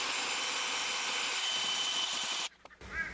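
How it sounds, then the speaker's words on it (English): A continuous rasping, scraping file against the rough end of a pin spinning in a drill, under the motor's hum, stopping abruptly near the end. "I'm just going to file off the rough ends by putting it into a drill."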